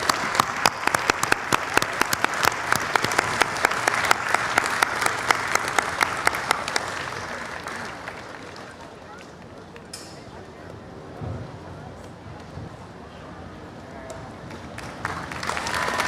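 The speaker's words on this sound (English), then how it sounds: "Big round of applause, well deserved." A large festival audience in Washington gives a loud, dense round of applause that fills the first half, then thins and fades into scattered claps and murmuring crowd noise.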